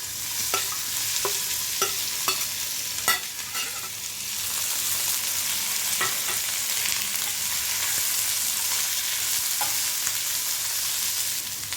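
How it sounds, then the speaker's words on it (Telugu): Cumin, mustard seeds, a dried red chili, green chilies and onions fry in oil for Bombay chutney: a steady close sizzle, with sharp spatula scrapes and stirring clatter early on, then smoother hissing. "జీలకర్ర ఆవాలు ఒక ఎండుమిరపకాయ వేసి ఆయిల్లో వేయించుకోవాలి."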